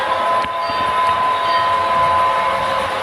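Model steam train rolling around a model railroad layout, a steady continuous rumble with a thin sustained tone and a few light clicks, fairly close and loud with no talking.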